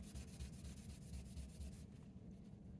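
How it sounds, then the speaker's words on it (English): A small Lego figure part is rubbed by hand on fine 1500 grit sandpaper, giving soft, close, rhythmic back-and-forth scratching strokes that stop partway through. "This here is a 1500 grit, a little bit finer. Again, back and forth, rotate, back and forth."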